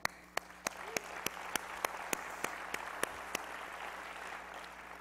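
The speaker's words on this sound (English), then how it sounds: "So please give yourselves a round of applause, because I certainly will." A single person at a city-management conference claps about a dozen times at a steady, even pace over a faint, diffuse wash of audience applause, with a voice briefly present.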